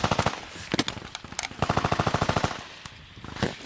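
A machine gun fires in rapid bursts, and a faulty magazine causes a stoppage that breaks the fire into uneven stretches with short pauses between volleys. The shots are loud and sharp.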